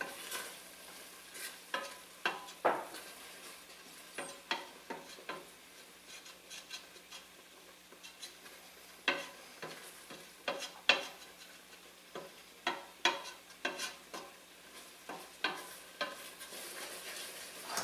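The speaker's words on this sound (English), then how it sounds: "So if I stir it, I can see the pan for a second before it seeps back in." Refried beans stirred in a pan, producing a series of soft, irregular scrapes and wet squelches over a faint low background, fairly quiet and close.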